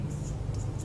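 Pen scratching on paper in a brief, close burst of a few quick strokes over a low steady hum.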